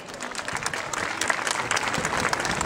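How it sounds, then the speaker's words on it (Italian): Crowd applause at the final event of a medieval festival held in a medieval village inside a castle in Erice, a steady, dense clapping that stays loud and continuous throughout, with no speech over it. "Facciamo un applauso a tutti questi."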